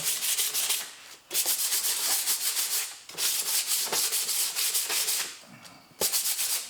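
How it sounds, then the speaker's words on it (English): Sandpaper rubbed over a surface area to rough it up for two-part epoxy, heard as steady back-and-forth scratchy strokes in close bursts with brief pauses between passes, no talking. "So took some sandpaper, stuffed up this area."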